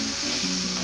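Vadagam chutney ingredients, tamarind and dried red chillies, sauté in oil in a pan with a steady, close sizzling and frying hiss and no voices.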